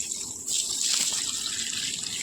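Water runs from a newly switched-on pipe in a garden, starting as a soft trickle and rising into a steady, close gush after the first half second.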